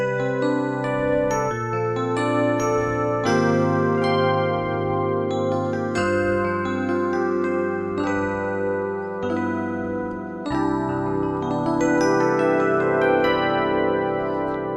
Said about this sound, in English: It uses the FM synthesis to actually simulate electric piano sounds, to recreate electric piano sounds.